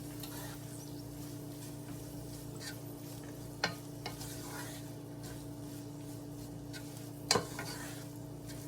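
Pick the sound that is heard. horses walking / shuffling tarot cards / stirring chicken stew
stirring chicken stew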